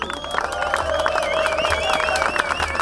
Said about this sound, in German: Deshalb einen dicken Applaus für Stefan Acker Fichte vom GMM in Dresden.